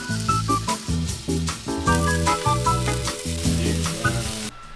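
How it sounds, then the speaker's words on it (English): Chicken pieces fry in oil in a pan, crackling and sizzling loudly and continuously up close, with bursts of popping throughout. "And then we fry the bastards."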